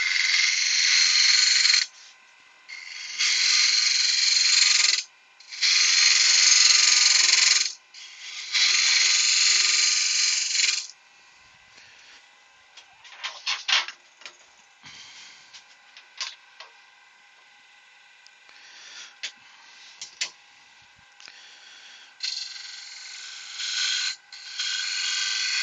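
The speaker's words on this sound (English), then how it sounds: "I just needed to hold it to sand it." A wooden acorn box being sanded: four sustained, harsh rasping bursts early on, then quieter scattered scrapes, rubs and handling knocks, close and without talk.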